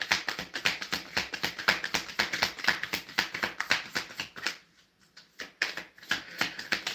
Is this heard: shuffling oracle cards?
yes